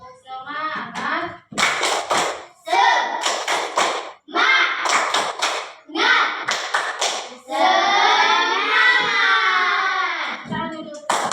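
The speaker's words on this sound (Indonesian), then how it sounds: "Selanjutnya yuk kita tepuk semangat dulu ya" A classroom group of students and their teacher performs a rhythmic clap-and-chant routine, bursts of synchronized hand claps alternating with sung shouted chant lines in a close, lively pattern, ending in a long held vocal phrase.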